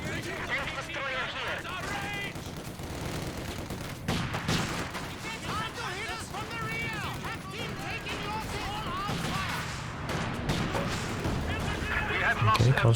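A mortar shell lands amid a continuous din of gunfire and explosions in a Company of Heroes 2 4v4 battle, with someone talking over the steady, loud combat noise throughout.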